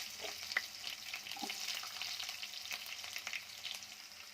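Chopped onion hits hot oil already crackling with mustard and cumin seeds, giving a steady close sizzle with a few sharp pops and light stirring, no voices.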